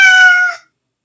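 A single loud, clear cat meow plays as feedback in an OpenSesame experiment, lasting just over half a second and cutting off into silence.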